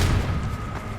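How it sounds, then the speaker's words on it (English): Ascidium handheld mortar launcher in E.Y.E. Divine Cybermancy fires a single deep, muffled boom that rolls out and fades over about a second. "You can also use the Ascidium, a handheld mortar launcher."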